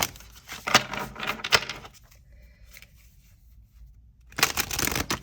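Tarot cards being shuffled by hand, two bursts of crisp riffling and slapping separated by a quiet pause of about two seconds, close and fairly loud, with no talking.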